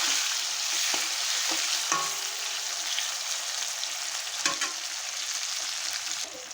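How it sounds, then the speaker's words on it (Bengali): Fried potatoes with chopped tomato are stirred in a pan for katla fish curry, a steady sizzle running throughout with scattered scraping clicks of the spoon against the pan. "টমেটো দিয়ে আমি এখন আলুটাকে ভালো করে নেড়ে চেড়ে নেব।"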